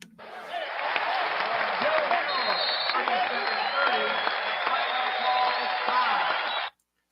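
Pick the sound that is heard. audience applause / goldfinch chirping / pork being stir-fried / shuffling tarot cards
audience applause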